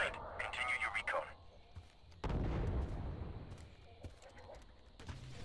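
Grenade explosion in Star Wars: Republic Commando, a sudden heavy blast about two seconds in with a rumbling tail, amid combat noise, radio chatter and talking.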